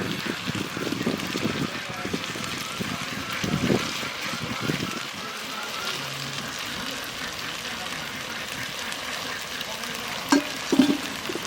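Mutton curry fries and sizzles in a pan while the meat is stirred, with scraping and clattering throughout and a couple of sharper knocks near the end; people talk over the cooking.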